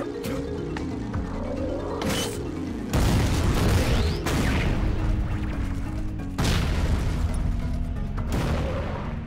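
Detonator explosions in the video game Jak and Daxter: a series of heavy booms and crashing bursts at irregular intervals, loud and close, over a low tonal game background.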